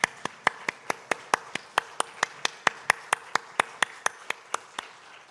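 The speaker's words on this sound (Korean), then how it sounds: "하나님께 영광의 박수 올려드리겠습니다." A church congregation claps in a steady unison rhythm, roughly three to four sharp, evenly spaced claps per second, sustained for about five seconds with no talking over it.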